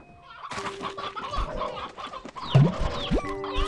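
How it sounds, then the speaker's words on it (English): Chickens in the video game Slime Rancher 2 cluck in short bursts over a busy backdrop of game ambience and tones, growing louder partway through. "I have way too many chickens."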